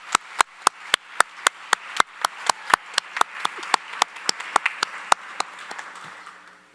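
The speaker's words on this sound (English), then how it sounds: "Can I have a round of applause for Allison?" A graduation ceremony crowd claps steadily, with sharp individual claps standing out over a dense wash of hand clapping that tapers slightly toward the end.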